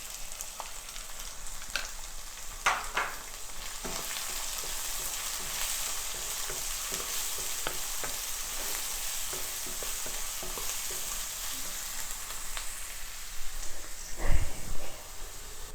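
Finely chopped shallots with a pinch of salt fry in a pan, a constant crackling sizzle under occasional scraping stirs, then a louder clatter of a utensil near the end.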